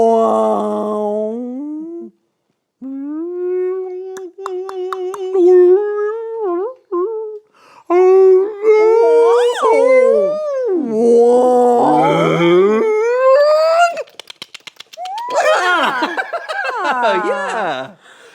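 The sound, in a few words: person imitating whale calls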